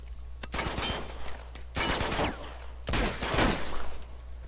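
Bursts of automatic gunfire in Uncharted 2 come in three loud rapid volleys separated by short pauses, with a steady low game hum underneath.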